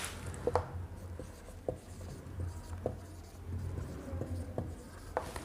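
Pen strokes scratch across paper as a word is handwritten, a series of short faint scrapes and taps in an irregular rhythm, close and quiet.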